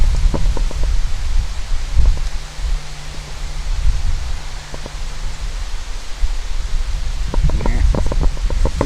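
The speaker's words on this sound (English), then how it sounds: "it is way too windy" Strong wind buffets the open ground along a night hiking path near distant road traffic, a steady broadband roar with low rumbling gusts that swell and ease throughout, with faint scattered clicks and rustles.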